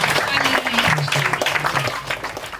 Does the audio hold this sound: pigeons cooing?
no